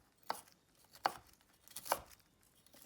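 Three sharp, crisp knife chops through bean sprouts land on a cutting board, spaced evenly about three-quarters of a second apart, close and fairly quiet.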